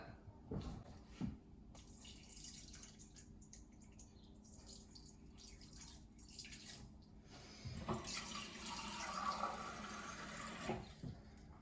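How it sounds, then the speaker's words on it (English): Water pours and splashes into a bowl for sourdough in two bursts, a brief one near the start and a longer, louder stream later, with soft clinks between. "then we're going to add 440 grams of water"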